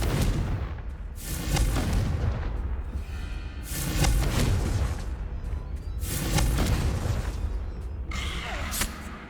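Repeated fire-spell explosions in the Hogwarts Legacy video game, three or four heavy booming blasts at roughly two-second intervals, loud and close with rumbling tails and crackling debris between them.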